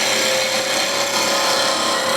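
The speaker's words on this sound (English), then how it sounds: "just to make it roughly the same diameter." Wood lathe taking a planing cut on a wooden skipping rope handle, a continuous close scraping, rasping sound over the motor's steady drone.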